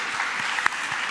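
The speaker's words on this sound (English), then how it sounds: "Please, big applause." Short burst of audience clapping at a national young scientists' contest ceremony, a brief moderate patter with one sharper clap standing out.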